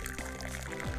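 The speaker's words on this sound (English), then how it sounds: "After he finished pouring the water" Hot water pours steadily in a Remember11 visual novel, a continuous splashing stream filling a cup or pot up close for the whole second, with no voices.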